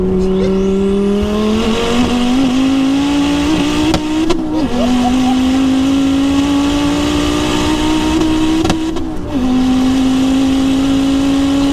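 A 900bhp Ford Focus ST pulls hard in third gear on full boost, its engine note climbing loud and close, broken by quick gear-change dips and turbo whooshes.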